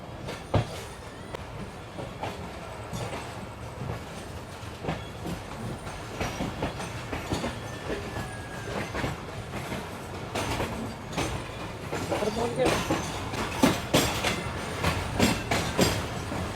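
The Karakoram Express, a business-class train with new coaches, runs along a line cut through hills, its wheels clattering in a steady rhythmic clickety-clack with rumble and faint squeal, heard from inside, continuous and building slightly toward the end.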